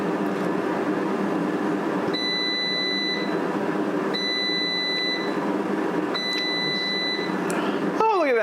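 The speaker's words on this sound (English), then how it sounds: "it'll beep at you to remind you to shake up the basket" Cosori air fryer gives three short evenly spaced electronic beeps as a shake-basket reminder over its steady fan whir, with a brief clatter at the end.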